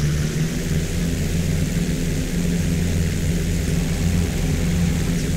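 Steady, loud drone of an aircraft engine in the X-Plane 10 flight simulator, a continuous low hum and rumble that holds without change while flying over Oahu.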